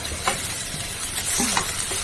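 Boiled potatoes frying in hot oil seasoned with five-spice (panch phoron), a steady close sizzle and hiss with a few light stirring scrapes and clinks.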